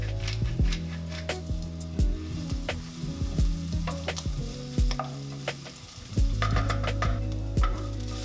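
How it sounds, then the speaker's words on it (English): Mushrooms browning in olive oil in a sauté pan with salt and pepper, sizzling steadily up close, with frequent sharp clacks and scrapes of a utensil moving them around and a low hum beneath. "I'm just going to quickly heat up and lightly brown my mushrooms with a little bit of salt and pepper to taste"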